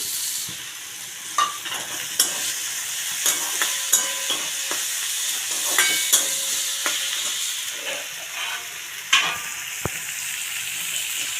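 Four slit green chillies fry in hot oil with a bright, constant sizzle punctuated by sharp pops and spits, loud and close, with no one talking.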